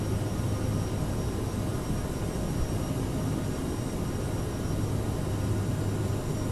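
Airliner engines roar steadily during a departure from the Spanish islands in Microsoft Flight Simulator, with an Air Nostrum flight out of Menorca; a loud, constant broadband rumble with a low drone runs throughout, no voices.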